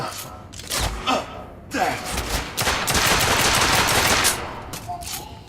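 Bursts of rapid gunfire from The Order 1886 video game crackle through a combat sequence, coming in several loud volleys with a near-continuous stretch in the middle, while a voice talks over them.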